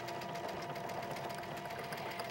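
Domestic sewing machine stitching a decorative thread painting, a steady fast mechanical whir and needle chatter running continuously at moderate level with no talk.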